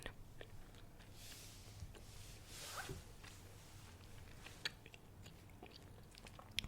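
Soft, close gum chewing in a quiet ASMR setting, a steady stream of faint moist clicks and smacks with occasional sharper crunchy snaps, no talking heard.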